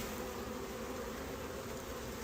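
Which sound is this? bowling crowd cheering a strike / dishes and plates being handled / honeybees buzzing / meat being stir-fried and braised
honeybees buzzing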